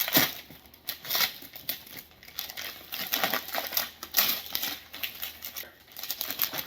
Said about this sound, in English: Watching a grown man unwrap presents.